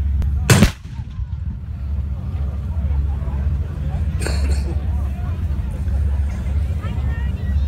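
An artillery battery fires one loud, close blast at a tank weekend event in Canada, followed by a fainter distant boom a few seconds later, over a constant low rumble of engines and crowd murmur.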